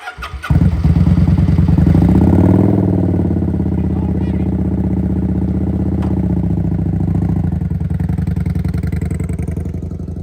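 A motorcycle engine cranks and fires, then settles into a loud, close, throbbing idle with a fast, even pulse that stays steady for the rest of the clip.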